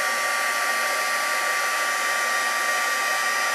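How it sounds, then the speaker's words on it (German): A hair dryer blows hot air over embossing powder on a handmade card to melt it, giving a steady, loud, close whoosh with no pauses and no talking. "wenn das dann anfängt zu schmelzen, dann ziehe ich einfach mit meinem Föhn weiter"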